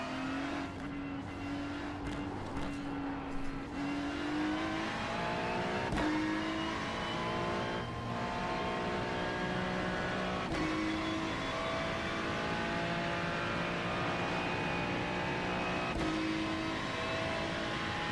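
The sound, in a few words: race car engine during a lap at Watkins Glen, racing video game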